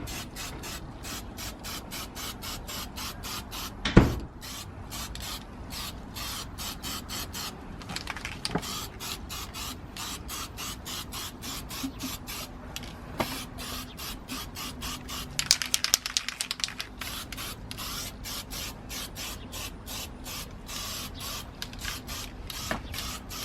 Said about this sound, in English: our black Hammerite spray can and just sort of give it this finish here